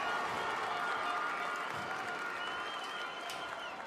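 Dense, continuous applause and crowd noise from spectators at a BMX Racing World Cup round, a steady roar of clapping that holds level throughout.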